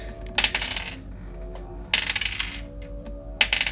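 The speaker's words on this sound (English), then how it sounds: "That noise you hear is the Dungeon Master rolling for encounters." Dice rolled by a Dungeon Master for encounters, heard as three short bursts of bright clattering and rattling on a hard surface, close and moderately loud.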